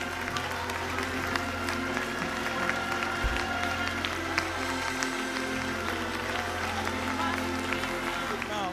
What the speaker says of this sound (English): Clap your hands if that's your testimony